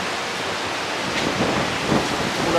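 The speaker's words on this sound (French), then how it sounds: "C'est le vent." Wind blows hard into the microphone outdoors in Bali, producing a loud, continuous roaring buffet that swells slightly in gusts, with no speech heard.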